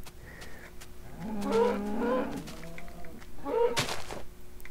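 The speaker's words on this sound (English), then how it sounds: "Come here, cow." Two drawn-out cow moos from the video game Minecraft, one after the other, with a quiet thunk in between.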